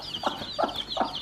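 Chickens clucking on a small farm, three short throaty clucks spaced evenly over a faint chirpy bird background, fairly close with no speech.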